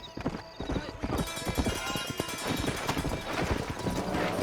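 Horse hooves clip-clop steadily in the video game Red Dead Redemption, a close rhythmic trot with occasional whinnies, while people talk over it.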